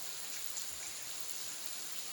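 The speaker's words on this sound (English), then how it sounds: "It's only rain. Yes, unexpected rain actually." Sudden rain falls in sunshine in Sri Lanka, a steady even hiss of drops pattering on surfaces, constant and fairly close with no voices.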